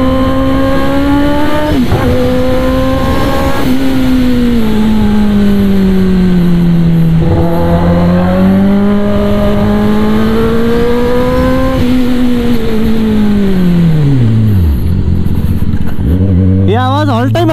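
A 2022 Kawasaki ZX-10R sport bike's engine revs loudly and steadily up close, pitch rising and falling through several sustained throttle blips before a sharp drop and a fresh rev near the end.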